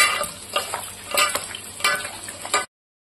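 Whole garam masala spices, a bay leaf and onions frying in hot oil in a pan for a Bengali chicken curry: a loud, close, steady sizzle broken by repeated scraping stirs, with no voices.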